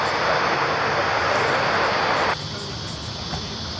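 An airliner takes off from runway 16 right at Sydney Airport, a loud broadband jet roar that cuts abruptly to a quieter engine rumble partway through.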